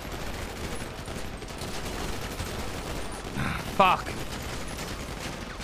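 Heavy gunfire erupts during an ambush in GTA V roleplay: a dense, continuous wash of shots runs throughout with a sharper burst near the end, and a man curses once over the shooting.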